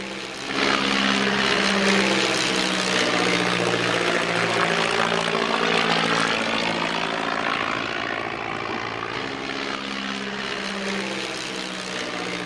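A propeller aircraft makes a low pass over the airfield at an air show, its engine drone swelling loud as it passes overhead, then easing away with a shifting, sweeping tone.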